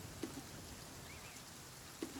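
Rain falls in the video game The Flame in the Flood, a soft steady hiss of drops on surfaces, quiet and continuous, broken by two faint thuds.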